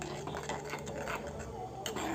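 A spoon stirs melted jaggery into a pot of puli inji, the tangy Kerala ginger-tamarind curry, giving quiet scraping and clinking strokes against the vessel over a faint background hum.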